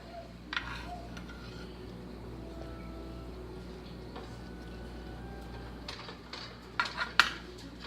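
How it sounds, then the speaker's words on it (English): Slotted spoon scraping and clinking against a casserole dish while serving jalapeño popper chicken casserole, a few faint scattered metallic taps over quiet background, with a cluster of louder clinks at the end. "I'm just using a slotted spoon since there's a bunch of juice that's in there."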